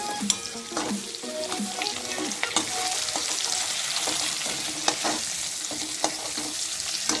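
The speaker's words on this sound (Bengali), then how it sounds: "এই ইঁচড়ের টুকরোগুলো খুব ভালো মতো করে ভেজে নিচ্ছি" Pieces of young jackfruit fry in hot oil, giving a steady, close sizzle throughout with occasional stirring clicks and scrapes of a utensil against the pan.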